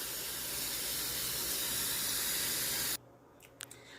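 Kitchen tap running steadily into a sink while cabbage is washed and strained, a continuous close hiss of water that cuts off abruptly, followed by a few faint clinks.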